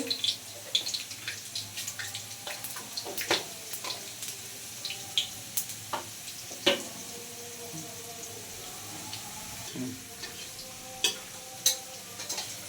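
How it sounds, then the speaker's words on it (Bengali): Two dried red chillies, bay leaves and cumin crackling in hot oil for khichuri, a quiet, irregular spatter of small pops and ticks with a faint steady background hiss. "এই তেলটাও গরম হয়ে গেছে বন্ধুরা, এর মধ্যে দিয়ে দিচ্ছি দুটো শুকনো লঙ্কা, কিছু পরিমাণে তেজপাতা, জিরে"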